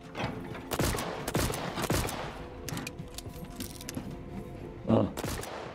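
Gunshots in the sci-fi train game Voidtrain: several sharp, loud shots fire irregularly over a steady background hum, with a strong final blast near the end.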